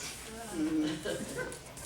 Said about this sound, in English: Pretty dog.